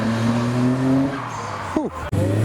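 A Mitsubishi car driven hard at night: the engine note rises under load, then tires squeal briefly in a quick skid before the revs drop and pick up again, with faint talk underneath.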